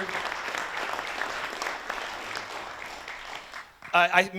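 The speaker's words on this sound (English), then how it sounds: "a round of applause for Eddie and Eric and the people that put this conference together" A conference audience gives a sustained round of applause for the event's organizers, dense and even for several seconds before tapering off as a voice begins speaking at the end.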